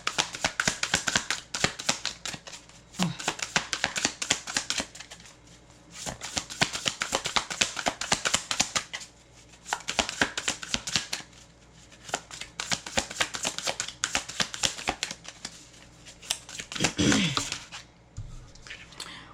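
Tarot cards are shuffled in repeated quick riffling bursts with short pauses between, close and crisp, with a soft voice briefly audible near the end.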